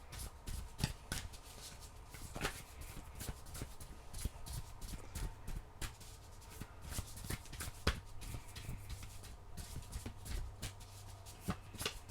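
Oracle cards being shuffled during a Capricorn tarot-style reading, a steady run of soft riffling clicks and snaps over a low background hum, close and moderately quiet with no talking.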